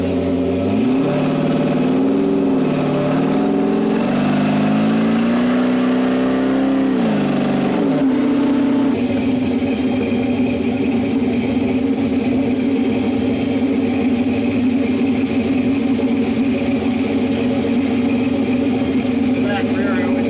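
A Factory Five 33 Hot Rod V2 with Terminator X tuning runs steadily throughout, its engine revving and rising in pitch early on before settling into a loud, continuous idle, with voices talking over it.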